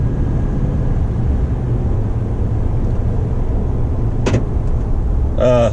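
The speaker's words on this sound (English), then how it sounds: "That was a rock hit the bottom of the truck." A sharp, brief knock as a rock hits the underside of a Toyota Tundra cuts through the steady rumble of driving over the road, followed shortly by a second short rattling clatter.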